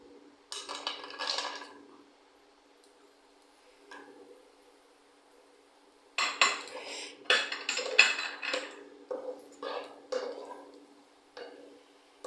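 Halved almonds tipped into a pan, a first burst of small clicks and rattles, then a quiet pause before a longer cluster of light ticks and clinks against the metal.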